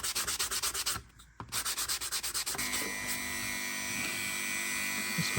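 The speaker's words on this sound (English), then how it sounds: "A bit of more sandpaper." A leather and cork knife sheath for a Mora Classic is rubbed with sandpaper in quick rhythmic strokes, close and scratchy, then a brief pause before a steadier, continuous rasping.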